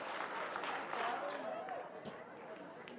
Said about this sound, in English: Clap 4 times if you can hear my voice